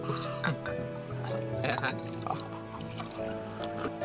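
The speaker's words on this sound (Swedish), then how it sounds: "Och så häller jag lite här." Warm soda pours into a glass with a faint liquid splash and a light clink of glass, mostly buried under close, lively talk.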